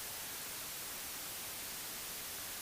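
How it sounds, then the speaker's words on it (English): A white noise test signal from an audio tool plays continuously, a flat, loud, abrasive hiss spread evenly across the whole range with no breaks. "we can switch to color, which will start at white, which is going to sound really loud and abrasive."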